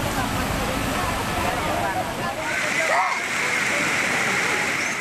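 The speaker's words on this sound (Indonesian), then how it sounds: "Banjir akibat hujan deras harian bahkan melebihi jembatan penyeberangan di desa setempat." Rushing floodwater from a river after heavy daily rain, overtopping a village footbridge: a loud, continuous broadband roar that fills the whole stretch, with a news reporter's voice faintly mixed in.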